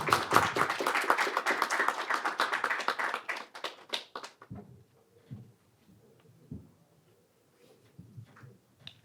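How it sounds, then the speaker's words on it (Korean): Audience applause at the 2022 Pyeongchang Peace Forum welcomes the Pyeongchang county governor to the stage. A dense, loud burst of clapping runs for about four seconds, then fades into scattered, faint claps and quiet room noise. "뜨거운 박수 부탁드리겠습니다"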